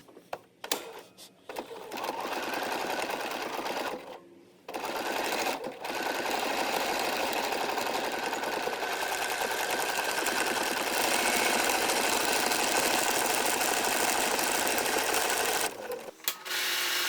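A home sewing machine on its basic buttonhole setting stitches buttonholes along a shirt placket, whirring loud and close in a steady run after a few brief starts and stops, then halting near the end.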